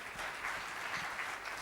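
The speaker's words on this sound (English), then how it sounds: "Round of applause, please" Brief burst of audience applause at a book launch, a steady wash of many hands clapping at moderate level with no talk over it.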